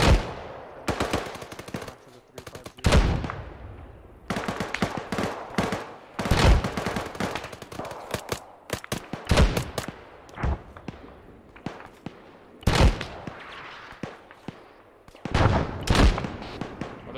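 Bursts of automatic rifle fire in ARMA 3 military gameplay, loud clustered volleys of sharp cracks separated by brief pauses and trailing echoes, with faint radio-style voices in the gaps.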